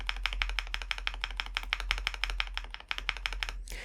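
Left shift key on an ND75 mechanical keyboard pressed over and over in a steady, fairly quick rhythm, each stroke a crisp close click-clack standing alone against a faint background hum.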